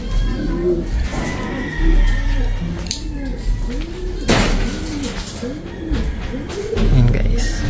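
Pigeons of a rare off-colour breed coo from a breeder's cage on a farm, a steady series of soft, rounded calls repeating close by, with a brief knock partway through.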